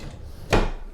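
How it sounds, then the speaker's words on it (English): A drawer in a hotel studio villa slides open once, a short, close scraping thump at the halfway point against quiet room tone. "let's see what they have in any of these drawers"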